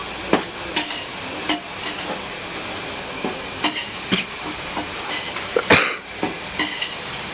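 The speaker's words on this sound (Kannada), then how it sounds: "ಈರುಳ್ಳಿ ಹಸಿಮೆಣಸಿನ್ಕಾಯಿ ಎಲ್ಲ ಹಾಕಿ ಉಪ್ಪಾಕಿ ಎಲ್ಲ ಚೆನ್ನಾಗಿ ಫ್ರೈ ಇದ್ದೀನಿ" Onions and green chillies frying with salt in a pan, a soft continuous sizzle broken by repeated sharp scrapes and taps of a spatula against the metal.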